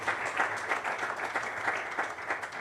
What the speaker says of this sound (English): I ask you to applaud yourself for your presence today, please